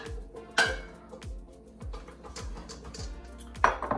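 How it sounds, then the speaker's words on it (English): Pieces of African yam dumped into a hot air fryer basket, a series of short hard knocks and clatters against the metal basket in a quick irregular run, close and fairly faint. "Dump in our"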